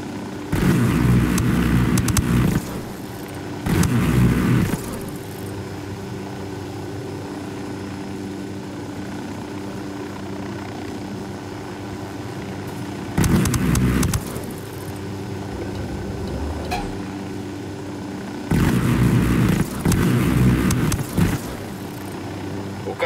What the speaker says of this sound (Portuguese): O caminhão está escapando.